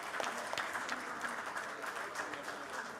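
A crowd at a valedictory function applauds steadily, a faint, continuous patter of many hands with a few sharper individual claps standing out.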